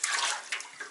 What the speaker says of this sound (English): I'm currently filling the sink in my laundry,